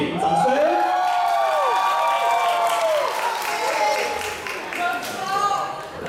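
A crowd clapping and cheering to welcome first-year popping dancers onto the stage, sustained applause with shrill whoops and excited shouts over it.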